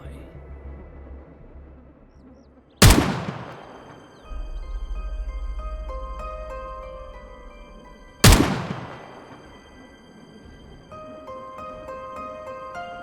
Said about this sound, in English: Emily shoots some shots in the air outside to wait and see if more infected lurks nearby.